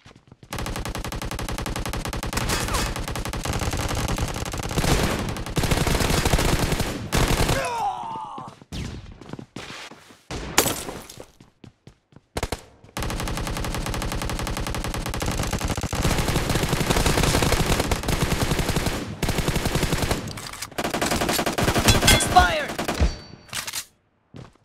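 Sustained automatic gunfire from a battle royale shooter's team deathmatch mode, long dense bursts of rapid shots with brief pauses and thuds between, loud and close, with occasional voice chatter mixed in.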